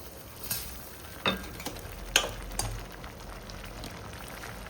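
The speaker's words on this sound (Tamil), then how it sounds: "இப்போ வெந்தயக்கீரையை போட்டுக்கிறேன்." Soft sizzling and bubbling in a pan as fenugreek leaves are added to cooking lentils, with a few sharp clinks and stirring scrapes, quiet and close.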